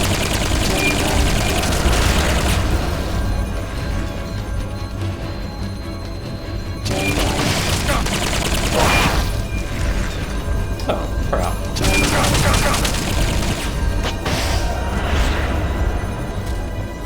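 Dense, continuous combat noise in Metal Gear Solid: Peace Walker, with gunfire, mechanical clanks and crashing impacts layered over a steady background bed throughout, loud and unbroken.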